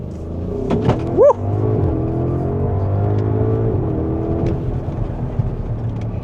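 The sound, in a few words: Audi SQ7 2026 V8 SUV accelerating hard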